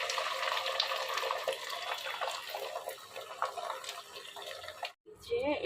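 Beaten egg is poured into a hot pan, making a continuous close, liquid hiss and sizzle that breaks off briefly near the end before a voice is heard.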